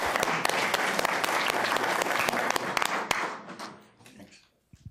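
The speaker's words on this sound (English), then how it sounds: "How about a big round of applause for this?" A city council meeting crowd breaks into loud, dense applause with sharp individual claps, sustained for about four seconds before thinning and fading to near silence, a few stray claps at the end.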